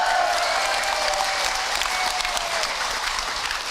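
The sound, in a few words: audience applause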